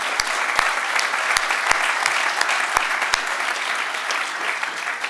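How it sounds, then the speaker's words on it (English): An audience at a University of Kentucky research building groundbreaking gives a steady round of applause. Dense clapping holds evenly throughout, with a few sharper nearby claps standing out. "Let's give Carl a round of applause."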